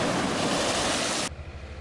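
Ocean waves washing onto the shore, a loud broad rush of surf that cuts off abruptly partway through, leaving a low rumble.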